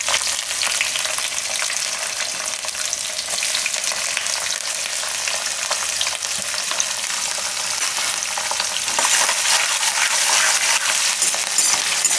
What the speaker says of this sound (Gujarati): હવે એમાં આપણે આ મરચાં નાખી દઈશું.